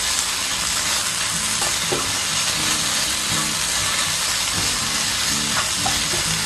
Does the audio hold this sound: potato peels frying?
yes